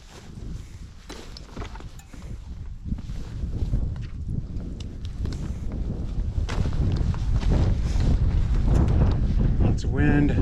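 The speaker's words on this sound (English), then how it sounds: "Lots of wind." Strong wind gusts roar and buffet the microphone beside a mountain lake on a Yosemite trail, a loud steady rush that builds toward the end, with faint footsteps in the mix.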